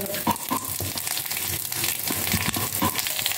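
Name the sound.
okra and cluster beans sautéing in pan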